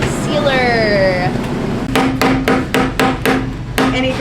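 Several sharp hammer strikes ring out in a steady rhythm while working on a Mazda Miata, after a brief squeaky, whistling sound at the start.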